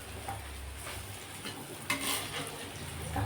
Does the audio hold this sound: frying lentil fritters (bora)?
yes